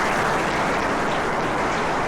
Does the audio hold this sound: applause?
yes